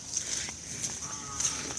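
Cattle from a kerapan sapi bull-racing team at a training session give a low, faint moo amid steady outdoor background noise, with no talking.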